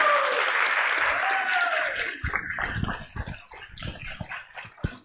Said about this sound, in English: So please give a big round of applause to all Michiganders.